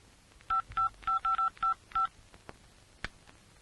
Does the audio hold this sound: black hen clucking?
no